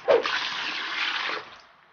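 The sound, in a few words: water poured onto a helmet for washing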